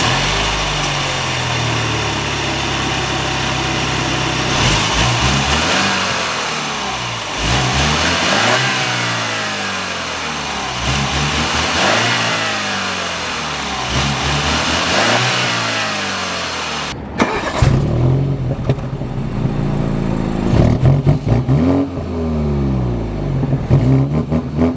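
BMW X4 xDrive 20i xLine with a 2.0L inline-four twin-turbo petrol engine and 8-speed Steptronic automatic, accelerating hard through repeated upshifts with rising and falling engine tone, then a steady louder drone.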